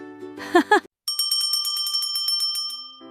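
A bright notification bell dings in a rapid repeated run, ringing clear and steady for about two seconds after a brief burst of speech.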